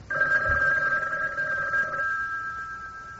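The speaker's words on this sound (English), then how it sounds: "The phone continued to ring." A telephone bell rings steadily in a radio drama scene, a continuous electronic trill that holds for about two seconds and then thins to a single fading tone, with no voices over it.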